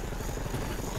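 A spy plane from Call of Duty: Black Ops Cold War passes overhead as a dense, steady rotor-like roar, loud and unbroken for about a second.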